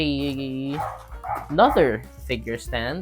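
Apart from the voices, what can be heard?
dog barking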